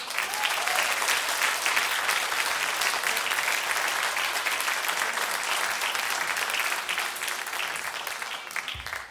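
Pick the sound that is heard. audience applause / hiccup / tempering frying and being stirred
audience applause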